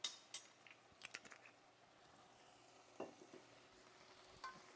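Apple pieces and lemon juice stirred in a bowl, with soft scattered clinks and scraping of a spoon against the dish, close and fairly quiet.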